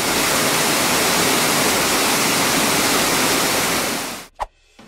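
Steady roaring waterfall, a dense broadband rush that holds for about four seconds before cutting off abruptly into near silence with a faint thump.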